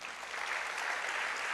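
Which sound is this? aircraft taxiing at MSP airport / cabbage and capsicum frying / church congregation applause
church congregation applause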